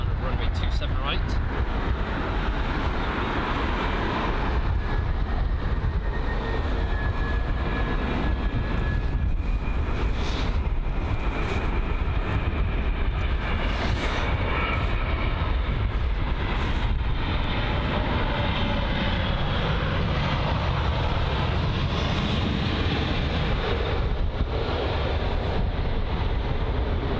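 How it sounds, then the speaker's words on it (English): A Boeing 787 Dreamliner touches down on runway 27 right at Heathrow, heard as a continuous, loud roar of jet engines with broadband noise throughout, while a voice talks over it. "Airways 787 Dreamliner, that's just about to touch down at runway 27 right"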